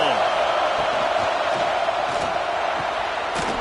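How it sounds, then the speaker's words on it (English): Steady roar of a football stadium crowd in a college football video game, Arizona at NC State, a dense, continuous wash of massed voices at even loudness with a few brief whoops poking through. "This crowd ready to make its presence known."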